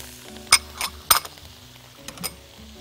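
Chicken wings with salt, black pepper, garlic powder, ginger and chopped coriander are stirred in a pan, giving a few sharp, close metallic clinks spaced irregularly over a quiet background.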